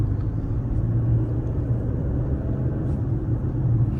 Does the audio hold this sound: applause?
no